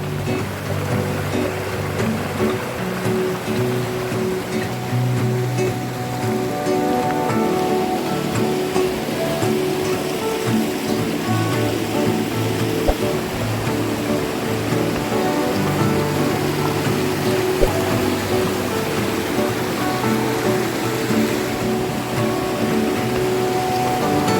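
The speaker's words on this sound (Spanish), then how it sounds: "el sendero va bordeando el arroyo La Monja" Mountain stream La Monja flowing beside a forest trail in Los Alerces National Park near Trevelin, Argentina: a steady, dense rush of water, fairly close and continuous throughout, with no voices.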